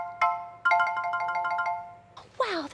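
A metal glockenspiel played with four mallets: one struck note, then a quick rippling cluster of ringing chords that sustains and fades, followed by a brief burst of voices at the end.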